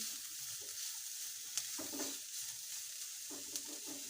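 Spices frying with chicken in a pan for a chicken and vegetable sandwich filling: a steady broad sizzle with a few soft spoon-stirring scrapes, close and moderately loud, no talking.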